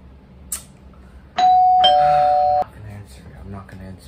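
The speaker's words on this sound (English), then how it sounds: "They ringing at my doorbell again." A doorbell rings once with a sustained electronic tone lasting about a second, close by, with quiet voices murmuring before and after.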